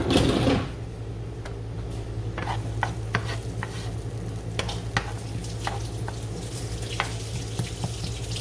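A chopped medium onion sautés in olive oil, a steady soft sizzle that runs throughout, with scattered spoon taps and stirring scrapes close by and no talking.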